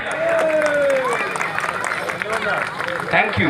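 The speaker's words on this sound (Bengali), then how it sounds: "একটু জোরে হাততালি হয়ে যাক।" An audience breaks into a loud, dense round of clapping, sustained for a few seconds, with crowd chatter and voices mixed in beneath it.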